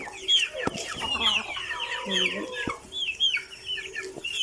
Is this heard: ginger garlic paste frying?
no